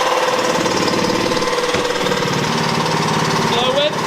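A power tool cuts a wooden car trunk floor board in half with a steady, loud, close motor drone and rough cutting noise throughout, with voices heard over it.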